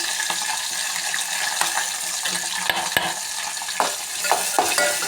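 Onion, garlic and curry leaves frying in oil in a pan and being stirred, a loud continuous hiss with scattered scrapes and clicks of the spoon against the pan.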